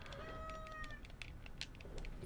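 Cat meowing in a French-language game set in a dark place, a few short rising mews over a steady background hum, fairly faint and close.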